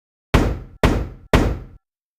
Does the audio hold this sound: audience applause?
no